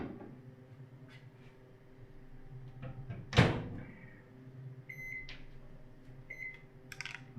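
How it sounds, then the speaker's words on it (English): A microwave oven is used to melt butter: a door clunks shut with a sharp bang, followed by soft beeps from the control panel and a low background hum, recorded nearby with no talk. "So where's the microwave?"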